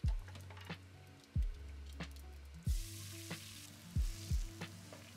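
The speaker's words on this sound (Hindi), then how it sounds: "सो इसका तड़का भी मस्टर्ड ऑयल में लगाने वाली हूँ मैं।" Onion and garlic sizzle in hot mustard oil with cumin for a Punjabi-style tadka. Steady frying hiss runs under about five sharp metallic knocks of a stirring utensil against the pan, close and fairly quiet.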